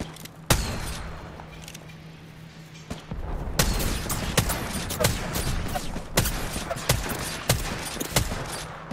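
Video game gunfire in a battle royale match: loud, close shots and sharp bursts over a steady rumble of explosions and background battle noise.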